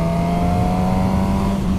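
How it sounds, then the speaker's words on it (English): A Suzuki GSX-S1000 motorcycle engine holds a loud, steady airbox roar with a strong low hum, sustained close by without talk. "It's got that lovely sort of airbox roar that bike's also got as well."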